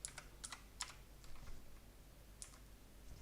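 Someone typing on a computer keyboard, a few scattered, quiet key clicks in small clusters with gaps between them, close by and with no one talking.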